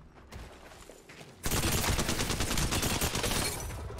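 Mozambique shotgun fire in Apex Legends, a sudden burst of loud, dense gunfire that starts after a quieter stretch with a few faint shots and then continues as rapid repeated blasts.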